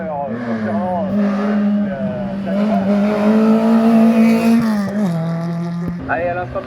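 A historic race car launches from the start at the Bagnols-Sabran hill climb, its engine revving hard and steady for several seconds with shifting pitch, under a commentator's running talk.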